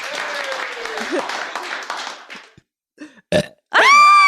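A man forces air down and pushes it back out in a deliberate, long, rumbling burp, followed by short grunting bursts and a sharp tonal yelp, all close and loud, with audience applause spilling in.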